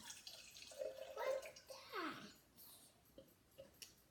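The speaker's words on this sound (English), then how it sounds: "we're going to pour that off into this container here" Faint liquid from a sourdough starter trickles and splashes softly as it is poured off into a container, with quiet handling noises and a low room background.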